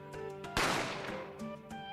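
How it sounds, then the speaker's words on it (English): A single loud gunshot sound effect in The Great Ace Attorney, a sharp blast with a rumbling decay over an ongoing musical tone. "A gunshot rang out"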